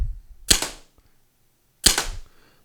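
A Salt Supply self-defense launcher fires two sharp, loud shots, each a hard crack followed by a short decay, spaced about a second and a half apart with quiet between them.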